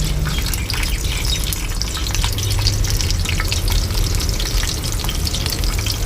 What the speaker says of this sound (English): so now I'm going to put our onions and garlics into the ghee